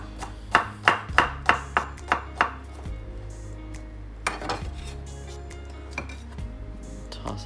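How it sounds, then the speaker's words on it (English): A knife chops broccoli on a cutting board in a quick run of six or seven sharp close thuds, then a few scattered softer knocks and light kitchen clatter. "Keep cooking up as I chop up the remainder of this broccoli"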